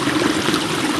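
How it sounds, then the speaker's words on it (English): Creek water flows and trickles steadily along a hiking trail in Devils Den State Park, Arkansas, a dense close babble of running water with no voices. "And that's a creek."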